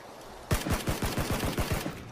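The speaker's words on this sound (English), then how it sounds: "There's people shooting right out here." Rapid gunfire from the PUBG battle royale video game, about a dozen loud close shots in a quick irregular burst lasting under two seconds, with no talk.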